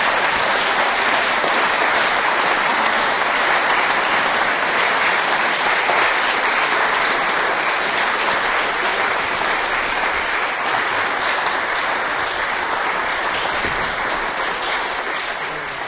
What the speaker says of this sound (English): You hear from that applause how much the large audience here tonight have appreciated a really outstanding presentation from you.